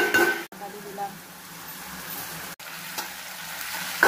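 Spicy chicken stir-fries in a pan with a soft, continuous sizzle broken by a couple of brief scraping stirs, fairly quiet and close, with a faint voice now and then.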